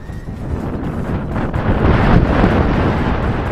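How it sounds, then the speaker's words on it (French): Strong outdoor wind buffets the microphone in a loud, continuous roar of low rumble and broadband hiss, swelling slightly toward the end, with no other sounds standing out. "Il y a vraiment beaucoup de vent"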